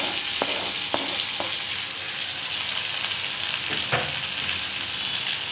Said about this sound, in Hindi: ये देखिए ये डाल दिए मैंने टमाटर और हरी मिर्ची।